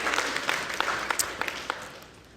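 A church congregation claps briefly, a moderately loud patter of many hands with a few sharper claps that fades away within about two seconds.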